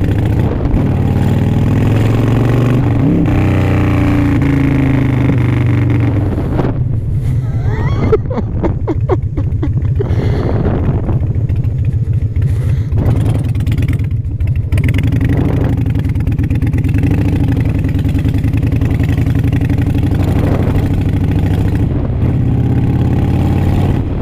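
Harley motorcycle engine revving during a ride, loud throughout with rising and falling throttle bursts and a steady low rumble, with people talking over it at times.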